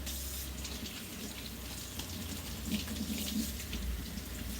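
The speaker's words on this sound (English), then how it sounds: "I'm gonna need a couple, 2 or 3 carrots here. I'm just gonna give these a quick rinse." Carrots rinsed under a running kitchen tap, a steady close rush of water splashing into a sink that holds constant for the whole stretch.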